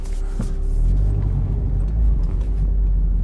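A 2020 Mazda MX-5 RF turns around, its engine a low, steady rumble heard from inside the cabin at moderate loudness, with no speech.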